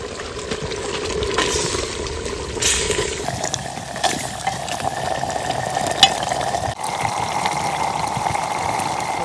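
Village-style pot chicken with coriander is stirred over steady sizzling frying, with a continuous hiss and intermittent scraping, close and moderately loud, with no talk.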